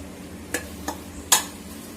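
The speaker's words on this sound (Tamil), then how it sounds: "நல்லா வதங்கட்டும் மசாலா, அதான் கொஞ்சம் மசாலா வதங்கட்டும்" Biryani masala with yogurt sautés in a pan under a low, steady sizzle, as a spoon scrapes through it in three short, close strokes.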